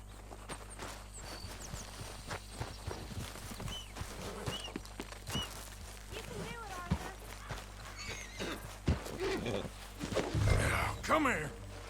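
Horse in the Red Dead Redemption 2 game, with hooves clip-clopping and walking at moderate distance, a neigh or whinny rising near the end, mixed under intermittent game dialogue and ambient sounds.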